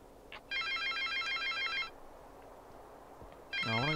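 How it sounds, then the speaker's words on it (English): An electronic telephone rings in a video game, a trilling warble lasting over a second, a pause with low background hum, then the ring starting again. "I'm going to answer the phone."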